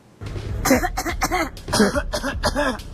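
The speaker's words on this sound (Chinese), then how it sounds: "对着这名女子是狂咳嗽、报复性的咳嗽" A woman with COVID-19 coughs in a rapid series of harsh, close bursts while standing in a queue in Taipei, several hacking coughs in a row with brief gaps between them.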